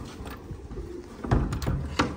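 A pet pigeon coos in short, throaty bursts, a few soft calls close by over a light background murmur.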